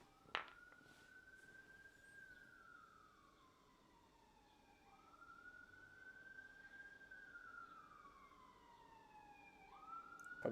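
An emergency vehicle siren passes outside, its wailing tone rising and falling in slow sweeps, faint and distant through the room with no talking.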